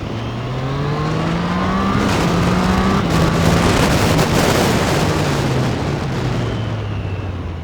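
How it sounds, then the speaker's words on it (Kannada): Triumph Street Triple motorcycle on a race track, engine revving hard as it accelerates, rising and falling pitch sweeps with loud continuous wind-blasted roar close to the microphone, no talking. "ಇದನ್ನ ಒಂಚೂರು ಥ್ರಾಟಲಿಂಗ್ ಕೊಟ್ಟು ಬಿಡೋಣ ಅಂತ ಹೋದರೆ ಹಾರ್ತಾ ಇರೋದು ಗಾಡಿ ಇದು"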